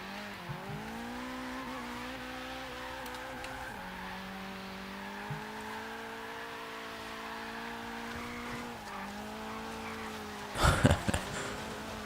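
A Nissan 240SX engine in Forza Horizon 3 drones at high revs under drifting, its pitch holding steady and dipping briefly at shifts, ending in a short burst of tire and impact noise.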